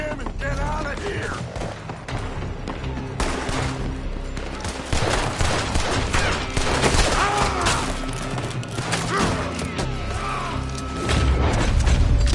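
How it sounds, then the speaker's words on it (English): Gunfire erupts from a building during a shootout in Red Dead Redemption 2, with dense volleys of shots, booms and crashes layered over music and shouting voices throughout. "They're shooting from that building!"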